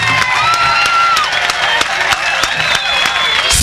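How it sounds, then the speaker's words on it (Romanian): Applause from a concert audience at a song launch, steady crowd clapping with faint cheering beneath sustained music tones. "O aplaudăm cu dumneavoastră pe Tatiana."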